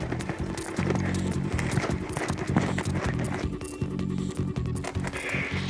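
A wild boar runs through New Zealand bush, giving a rapid, uneven patter of footfalls and rustling brush that comes and goes at moderate distance, with no voices over it.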